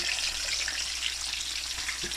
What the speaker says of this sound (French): on le met dans l'huile à la bonne température